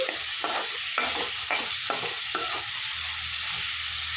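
Onions, tomatoes and ginger-garlic paste fry in a pan for popcorn curry, with a steady sizzle and about five distinct scraping stir strokes close by.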